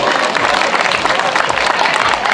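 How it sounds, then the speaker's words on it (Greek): Audience applause at a disabled athletics award ceremony, dense steady clapping from a crowd throughout, fairly loud and continuous with no pause. "Χειροκρότημα για τον κύριο Τηγανή."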